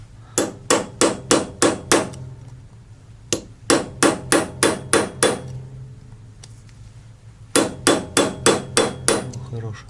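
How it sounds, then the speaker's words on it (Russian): Sharp metallic hammer blows on a center punch set against a bolt during transfer case and automatic transmission seal work, landing in quick bursts of about five or six strikes with short pauses between groups, loud and close. "Этот болт желательно раскернивать."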